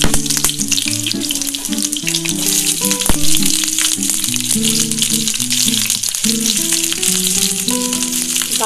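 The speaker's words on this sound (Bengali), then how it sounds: "এই সাদা তেলটা একটু গরম হয়ে গেলে তারপরে আমি এই যে কেটে রাখা সবজিগুলো আমি ভেজে নিচ্ছি।" Chopped cauliflower and other vegetables fry in hot white oil for vegetarian fried rice, a loud, close, continuous sizzle and crackle with pan rattles and stirring knocks.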